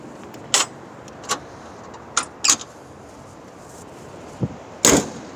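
Several sharp metallic thunks and clicks as the hood of a 1984 Ford Mustang GT350 is lowered and latched, spaced apart over quiet background.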